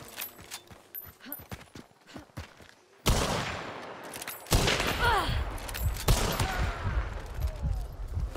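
In the video game Hunt: Showdown, three heavy gunshots crack out one after another, each trailing off in a rumbling echo, after a stretch of quiet clicks and footsteps.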